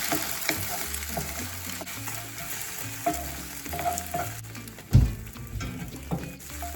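Eggs and tortillas fry in a hot pan for a Mexican breakfast, a steady broadband sizzle with occasional clacks and stirring knocks, one louder thump near the end, and no talking.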